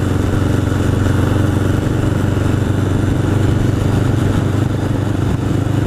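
A 1981 Honda CB750 Custom motorcycle engine runs on a ride, a loud, close, steady drone with an even rumble throughout.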